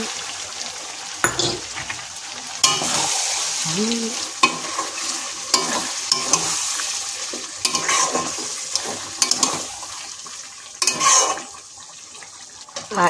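Spicy chicken curry with yogurt being stirred and scraped in a sizzling pan, a steady close frying hiss broken by repeated spoon scrapes and clinks, with no talking.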